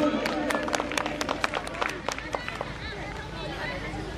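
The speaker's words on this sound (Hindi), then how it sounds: "जोरदार तालियों से" Audience applause at a Holi Milan celebration, a burst of sharp close hand claps that thins out after a couple of seconds, with crowd chatter underneath.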